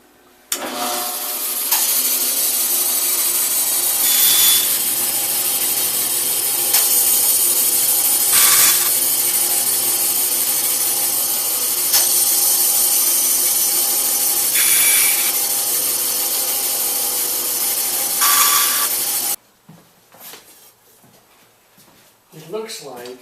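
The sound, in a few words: sawing notches into wooden kite pieces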